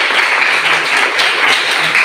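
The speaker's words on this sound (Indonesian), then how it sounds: "tepuk tangan untuk siap" A classroom full of people claps, loud and close, as dense continuous applause.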